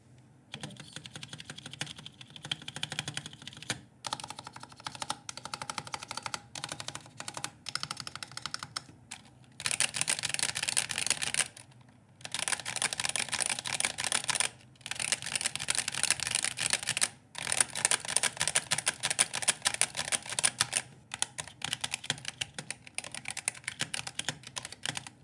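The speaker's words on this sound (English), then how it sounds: "the switches and the stabilizers are not looped and the sound profile is not very pleasant" Continuous typing on a Razer Huntsman V3 Pro TKL keyboard with unlubed switches and stabilizers: dense, sharp clacky keystrokes in bursts with short pauses, close and fairly loud, with no talking.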